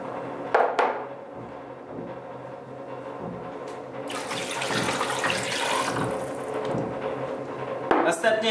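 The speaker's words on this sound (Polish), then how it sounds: "Zalewamy 3 litrami wody zimnej." Cold water, 3 litres, gushes into a large pot holding chicken wings, a carcass and two legs, a rushing pour of several seconds bracketed by a few knocks and clatters.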